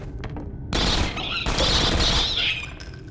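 Rapid bursts of gunfire and booming explosions fill a Half-Life 2: Episode One firefight, loud and continuous after a quieter opening.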